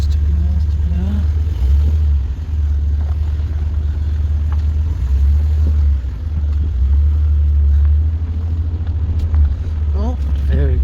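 A 2004 GMC Sierra pickup, with its rear brake calipers just reinstalled, rolls along on a test drive; a steady, loud low engine rumble swells gently at times, with voices faint in the cabin.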